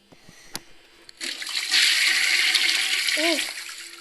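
A toilet flushes in a horror video game, a loud rushing of water that starts abruptly and keeps churning steadily, with a brief voice sound near the end.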